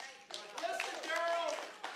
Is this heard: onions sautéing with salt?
no